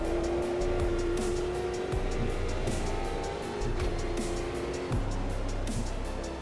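Brazilian stock cars race in the Automobilista 2 sim, engines droning loud and steady throughout, with tire noise and cars passing close by.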